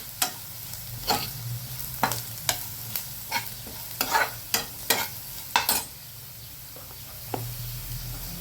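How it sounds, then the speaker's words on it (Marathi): Onion and a pinch of asafoetida sautéing in a pan, a soft sizzle under a run of sharp spatula scrapes and knocks, about a dozen stirring strokes coming in uneven bursts before easing off. "त्यामध्ये टाकूया हिंग. चिमूटभर हिंग टाकलं आपण. ते देखील परतून घेऊया, पूर्ण भाजलं जाईल."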